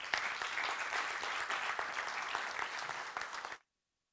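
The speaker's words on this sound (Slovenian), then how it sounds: "In velik aplavz." A conference audience at a tourism fair in Dolenjske Toplice gives a full, sustained round of applause, dense and steady, that stops abruptly just before the end, leaving silence.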